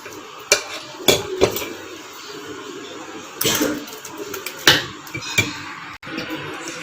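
A spoon stirs tomato masala into dosa batter in a metal kitchen vessel, making irregular clinks, knocks and scrapes, close and fairly loud, with brief pauses between strokes.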